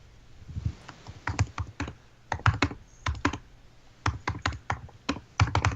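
Computer keyboard typing in quick irregular bursts of sharp key clicks with short pauses, close and fairly quiet, no voices.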